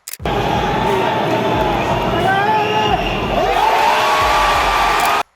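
A UFC arena crowd roars and cheers after a knockout, a loud, sustained wall of voices with whistles and shouts on top. It starts abruptly and cuts off sharply at the end.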